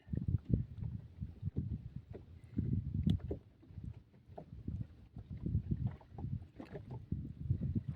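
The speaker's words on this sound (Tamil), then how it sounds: "பக்கத்தில் வத்தையெல்லாம் ஓடுது. சின்ன சின்ன வத்தையெல்லாம்." Small boats running nearby on the sea at night during squid fishing, a steady low engine and water rumble with irregular surges and knocks, fairly close and continuous, no talk.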